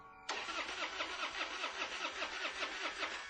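A car engine being cranked on a quiet residential street during an outage, a steady rhythmic starter whirr with repeating pulses, loud and continuous, no voices.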